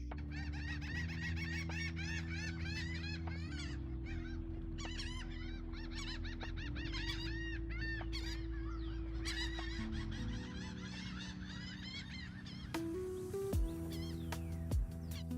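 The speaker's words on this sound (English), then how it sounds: "there's a lot of seagulls creating a ruckus" A flock of seagulls squawks and cries noisily in a dense, overlapping chorus outdoors, with a low steady drone underneath and a few sharp knocks near the end.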